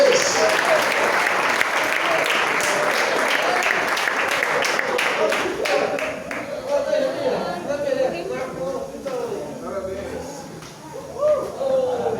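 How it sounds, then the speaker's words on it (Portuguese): Worshippers at a Portuguese-language church service clap loudly and steadily for about twelve seconds, the applause thinning toward the end as voices come through. "Aplauda o Senhor bem forte"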